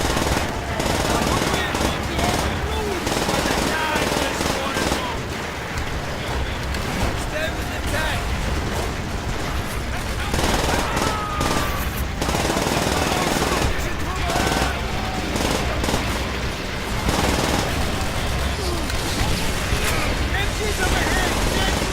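Dense, continuous machine gun fire in Call of Duty: World at War, with loud rattling bursts and explosions filling the whole stretch. Shouted voices are partly buried in the battle noise.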